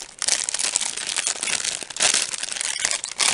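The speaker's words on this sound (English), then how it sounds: "sorry for all the crinkling." Plastic packaging crinkles and crumples steadily and close up as a small set of crystal points is unwrapped, a dense crackling texture with a few louder bursts near the end.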